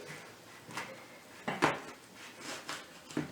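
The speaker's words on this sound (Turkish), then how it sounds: "Ben şöyle limonumun çeyreğini kesiyorum." A knife cuts a quarter wedge off a lemon on a board, giving a few short, close clicks and taps in a loose rhythm, with no talking.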